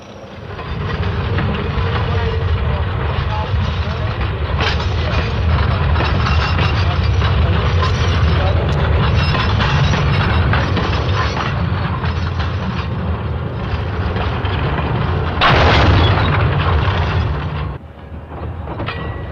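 A freight train rumbles and clatters steadily along the rails through a rail yard, close and loud, with a brief louder screech near the end before it eases off.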